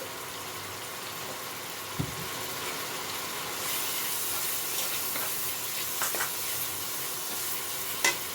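Masala fries in oil for sorse posto jhal as turmeric is added, with a steady close sizzle, a few sharp clinks of a spoon, and stirring noises.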